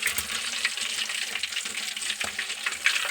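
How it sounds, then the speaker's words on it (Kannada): Brinjal bajji, battered eggplant fritters, deep-frying in hot oil, a continuous close bubbling sizzle with occasional stirring scrapes and no talking. "ಪರ್ಫೆಕ್ಟಾಗಿ ಕುದ್ದವ್ರಿ ಎಣ್ಣೆ ಒಳಗೆ"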